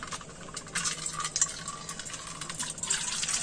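Rainwater drawn from a storage tank splashes and runs steadily while cooking pots blackened by firewood are washed outdoors in an African village, a close, continuous trickle and spatter with no talking.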